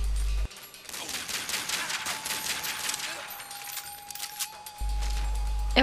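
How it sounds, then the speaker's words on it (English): Enemy gunfire in the video game Tomb Raider Legend: a rapid burst of automatic shots crackling for several seconds, with metallic clinks mixed in, set between stretches of a steady game background tone. "Why are you shooting at me?"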